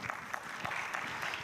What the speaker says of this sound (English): Please give your panel a round of applause.